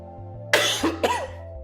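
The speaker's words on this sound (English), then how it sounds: "still clearing my throat" A person clears their throat and coughs a couple of times in quick succession, close and fairly loud, over a faint steady background hum.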